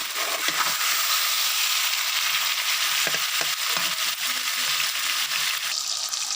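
Chicken fries in a pan with a loud, steady hiss and sizzle throughout, with tomatoes and green chillies being added, punctuated by a few faint knocks of a utensil stirring underneath.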